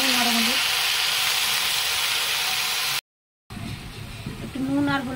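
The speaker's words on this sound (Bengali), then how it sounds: "এবার আমি কেঁচি শাকটা এর উপরে ছেড়ে দেবো।" Kechi greens dropped into hot oil in a pan hiss and sizzle loudly and steadily, a brief dropout midway, then the frying resumes with stirring noises close by.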